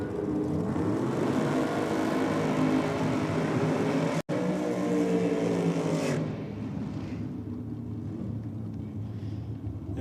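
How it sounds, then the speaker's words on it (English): A front engine dragster at a drag racing championship roars loudly and steadily, then the engine note drops away sharply and a quieter rumble carries on to the end, with no talk. "another front engine dragster make its way out in the rocket lane"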